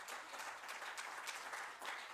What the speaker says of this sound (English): they gave him a hand clap of praise because he alone is worthy